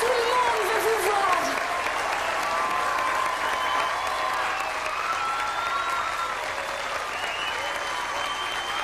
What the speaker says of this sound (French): Donc, on les applaudit fort.